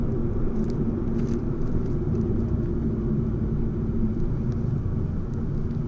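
A Fiat Egea car driving on a road, its engine and tyre noise forming a steady, loud low rumble that runs unbroken with no voices.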